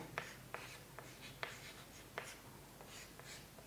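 Pen or chalk writing out a ray diagram during an optics lesson, heard as faint, close scratchy strokes with several sharp taps over a quiet background hum, no talk.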